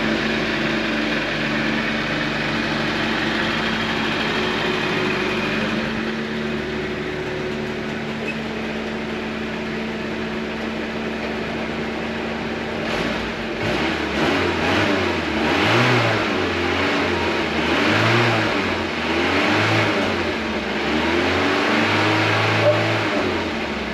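A 1980 Fiat 124, parked for over ten years before being revived, idles roughly and then revs up several times in rising and falling surges, loud and close, with no talking.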